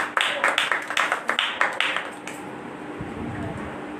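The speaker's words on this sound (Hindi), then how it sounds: "जोरदार तालियां यीशु के नाम से" Congregation at a Friday prayer meeting claps in quick, distinct bursts that fade into a quieter murmur of room sound and voices.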